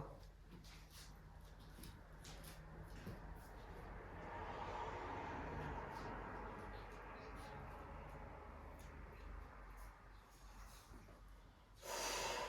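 Heavy, rhythmic breathing and snorting from a person doing abdominal exercises, repeated sharp exhales over steady background noise, ending with a loud burst of breath.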